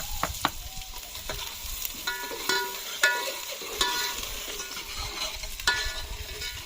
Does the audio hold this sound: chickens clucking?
no